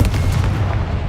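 Hogwarts Legacy's Confringo spell erupts in a dense, rumbling explosion that stays loud and steady for about a second, like close artillery fire.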